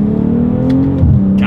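A 2024 BMW M440i Gran Coupe launches hard from first gear, its exhaust note rising loud and steady with a burst of crackling pops near the end.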